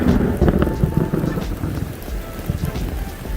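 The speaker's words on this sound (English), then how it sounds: "We've had lightning and thunder and rain, and even today we had hail." Steady rain pours with low rumbling thunder rolling beneath it, a dense continuous storm wash with no voices.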